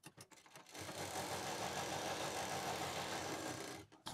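A sewing machine runs a steady straight stitch across velvet fabric while a designer bag is sewn, starting after a few light handling taps and stopping near the end, close and moderately loud with no talk.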